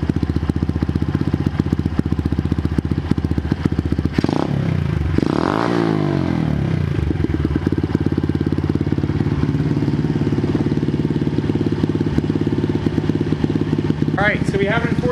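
A motorcycle engine on a budget homemade dyno starts and runs steadily, with a rising rev sweep as the throttle opens for a power run in fourth gear, loud and close throughout.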